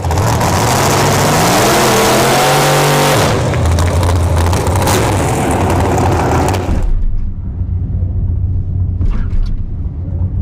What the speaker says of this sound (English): lining up against the bracket racing Vega.